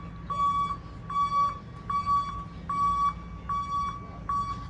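An electronic alarm beeps in a palm-filled park sitting area in Palm Springs, its steady high tone pulsing in about six evenly spaced bursts. It rings clear and fairly prominent over a low outdoor rumble.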